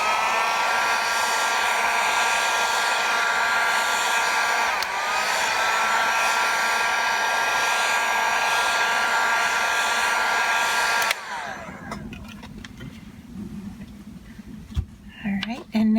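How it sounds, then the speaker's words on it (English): A heat gun blows loudly and steadily while drying alcohol ink on earrings, a constant close whooshing roar for about eleven seconds that then cuts off, leaving quieter handling noises. "I am just going to use a bit of a heat gun on this to get it to dry"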